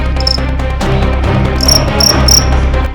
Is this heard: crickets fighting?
yes